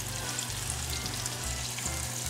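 Tteokgalbi patties of minced beef and pork frying in a home pan, giving a steady dense sizzle that stays even and moderately close throughout, with no talking.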